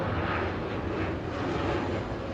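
A fixed-wing airplane passes overhead, its steady broad engine roar filling the whole stretch at a constant, fairly loud level with no talk over it.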